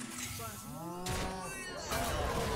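Cow moo from a Hearthstone card in play: a low, drawn-out moo with a second call following, set among game sound effects and clatter, moderately loud.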